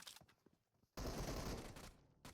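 Gunfire in PUBG Mobile on the Erangel map: a loud sustained burst of rapid shots that starts abruptly partway through and runs for over a second, after a stretch of quieter scattered sounds, with another burst starting at the end.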